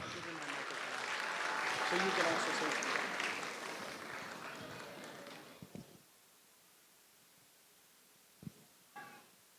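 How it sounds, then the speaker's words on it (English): An audience at a Diwali celebration with an Indian Consulate guest gives a round of applause, a broad wash of clapping that swells, then fades out by the midpoint, followed by near silence with a couple of brief knocks. "Can you guys please give a round of applause for him?"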